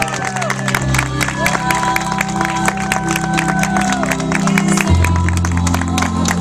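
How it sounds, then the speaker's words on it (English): Crowd at a 2015 Veggie Pride Parade applauding and cheering for a speaker, with a musical intro of sustained tones over steady clapping and scattered whoops throughout. "Ladies and gentlemen, a big round of applause for Martin Rowe."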